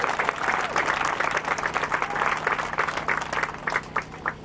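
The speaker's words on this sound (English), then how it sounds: "Can we give them a round of applause?" Outdoor crowd at the Parkville March for Unity applauding the organizers, steady dense clapping at moderate volume that swells and thins slightly over a few seconds.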